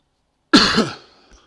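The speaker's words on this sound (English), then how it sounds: "Still suffering with that cough at the moment." A single short, sharp cough, close and loud, followed by silence.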